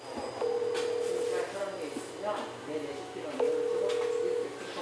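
Phone tones on a mobile handset in a small shop, with two long steady beeps separated by a gap, faint background talk and room noise beneath.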